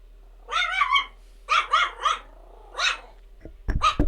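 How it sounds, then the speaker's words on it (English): Leia, a pet dog, barks indoors. Loud yappy barks come in bursts of one to three with short pauses between them, and a sharp clattering knock is heard near the end. "You are not supposed to be barking, ma'am"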